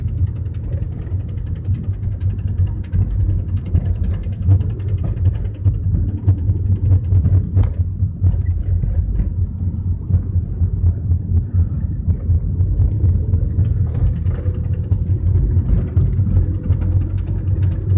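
A strap flapping on a moving vehicle, steady low rumble and whir of driving with wind buffeting throughout, a continuous rough drone that resembles a failing tire, loud and close with no voices.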